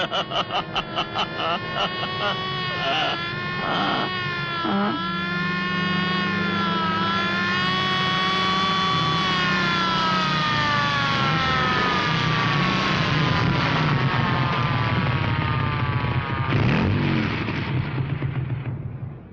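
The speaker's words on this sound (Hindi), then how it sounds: "और ये सायरन है, ये कर रही है पुलिस हवा से बातें।" A police siren wails with a rising and falling tone, loud and sustained over engine noise as the police car races along, in a scene from the Hindi film Shaan.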